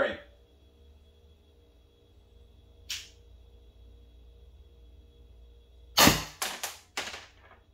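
A high-pressure-air HDR50 pistol fires, with one sharp crack near 3 seconds and then a quick cluster of three or four loud reports near the end, standing out against a quiet background hum.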